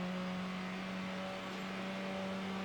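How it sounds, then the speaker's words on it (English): Lotus car engine in a driving video game holding a steady, loud drone with a constant pitched hum throughout, no voices over it. "Actually, this little Lotus goes quite well."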